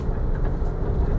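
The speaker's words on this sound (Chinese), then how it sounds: "现在算是石头路，我们想要开快一点追上去。" A 2024 Mitsubishi Triton pickup drives fast over a stone road, making a constant loud low rumble of tyres and engine heard from inside the cab, with no talking.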